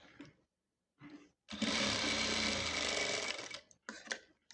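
A sewing machine runs in a loud, continuous whirring burst of about two seconds while stitching the neck lining of a churidhar, with shorter bursts of stitching just before and after.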